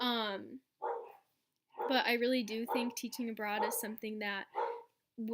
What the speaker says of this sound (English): I'm really sorry if you can hear my dogs barking.